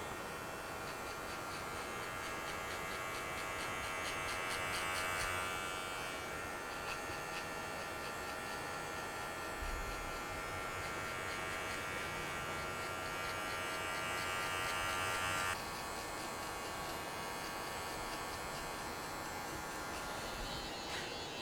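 Hair clippers fading the bottom of a drop-fade haircut: a steady, close electric buzz that runs throughout with slight shifts in tone as the clipper moves, and no one speaking.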